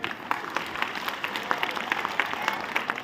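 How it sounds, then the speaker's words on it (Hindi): An audience applauds after a patriotic speech on women's strength, a steady burst of many hands clapping at moderate volume, with a faint crowd murmur underneath. "एक बार जोर ताली हो जाए सोनी कुमारी के लिए।"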